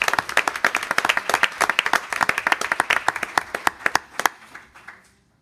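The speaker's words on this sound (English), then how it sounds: "Let's give them a round of applause." A room of people at a school board meeting applauds, a dense burst of hand claps that holds steady, then thins out and fades to silence.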